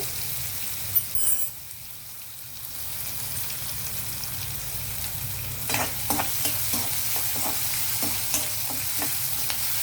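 Onions frying in a pan as ginger garlic paste goes in, a soft continuous sizzle with a few clinks early on and a series of light stirring scrapes later.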